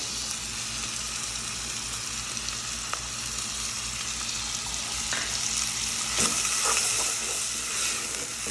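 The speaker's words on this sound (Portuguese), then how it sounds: "Vou ficar misturando até que ele fique pré-cozido." Chicken sizzles and fries in a pan while being stirred with colorau seasoning, a steady crackling hiss broken by occasional scrapes and clinks of the utensil against the pan.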